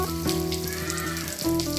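Fritters (bora) frying in hot oil for a Bengali vegetarian banana-blossom dalna, a steady close crackling sizzle running throughout with faint kitchen hum underneath.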